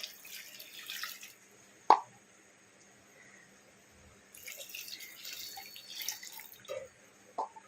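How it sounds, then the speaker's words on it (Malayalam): Two glasses of water pour into a cooker pot in two hissing stretches, with a couple of sharp plops in between against a quiet background. "പിന്നെ ഇതിനകത്തേക്ക് ഞാൻ 2 ഗ്ലാസ് വെള്ളം ഒഴിക്കുക കേട്ടോ"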